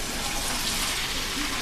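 Water pours steadily into a baking pan around a chocoflan for a bain-marie, a continuous close rushing splash with no break.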